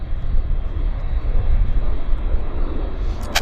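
Aircraft at Vancouver's YVR airport, a loud steady engine roar and rumble close by, with a faint brief squeak near the end, no talk.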